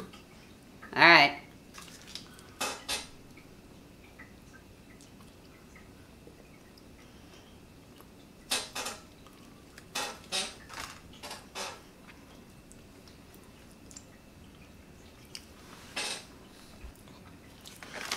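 Cutlery and dishes clink as MRE meatball marinara is served, with sparse, sharp taps and scrapes separated by quiet gaps and soft voices talking nearby.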